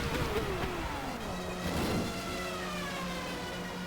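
Formula One cars in the F1 1995 racing video game roar past as the player laps slower cars, with fairly faint overlapping engine whines that sweep up and down in pitch, steady throughout.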